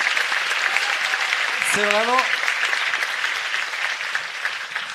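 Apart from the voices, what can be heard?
audience applause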